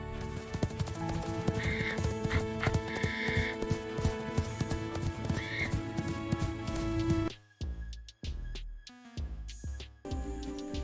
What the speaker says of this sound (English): H for horse. I'm running.